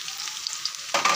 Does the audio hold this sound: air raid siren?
no